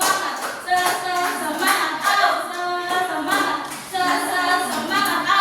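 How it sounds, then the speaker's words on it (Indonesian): A classroom does a rhythmic spirit clap during a micro-teaching practice, bursts of group hand claps falling in a patterned beat, with voices chanting along throughout. "Ya, tepuk semangat."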